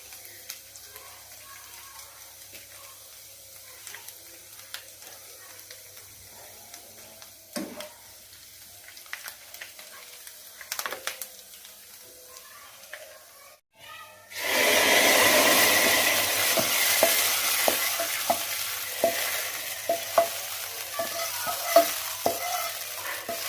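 Green onion hits a hot pan mid-clip and bursts into a loud, steady sizzle, preceded by quiet clicks and taps, with occasional scraping of stirring over the frying.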